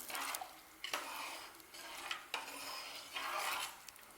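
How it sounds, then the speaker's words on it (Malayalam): Rice stirred in a cooking pot while making yellow rice, a spoon scraping and swishing in repeated strokes with short pauses between them, close and moderately quiet. "ഇനി ഇതൊന്ന് നന്നായി ഇളക്കി യോജിപ്പിക്കാം."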